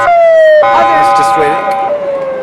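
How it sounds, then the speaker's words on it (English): A loud ambulance siren wails close by, its steady pitch dropping as the vehicle passes, with a person talking underneath. "Could you go back to before the ambulance came?"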